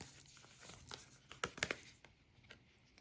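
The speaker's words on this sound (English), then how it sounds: "So now we will split the deck and see what we get." A deck of cards split and handled close by, with quiet papery rustling and a few sharp crisp snaps of cards in the middle, faint and alone.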